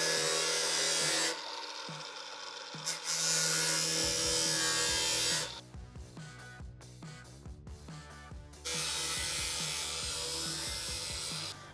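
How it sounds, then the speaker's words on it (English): A power sander grinds loudly along the cut edge of a galvanized steel bumper tub for a 2005–2015 second-generation Toyota Tacoma rear bumper, running in long bursts broken by a brief stop and a patch of scraping and clattering. "So we'll go ahead and get this sanding and kind of carry this back over here and round this off a little bit"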